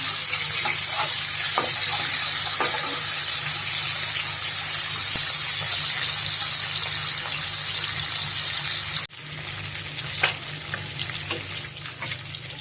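Pieces of Rohu fish frying in hot oil, a loud steady sizzle running throughout, with a short dip partway through before the crackling resumes.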